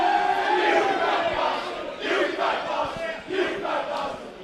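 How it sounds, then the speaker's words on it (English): A football crowd at a State League Division 2 grand final gives friendly cheers and calls for a player, a broad roar that swells in waves with no talk over it. "about to receive the friendly cheers from the crowd"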